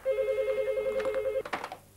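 An office telephone rings with a steady tone that holds for over a second, loud and close. Clatter and handling noise follow as it stops.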